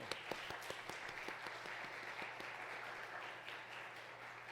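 A church congregation at a university's Wednesday worship service applauds in welcome, with a dense, sustained wash of clapping at a moderate distance and a few sharper individual claps at the start.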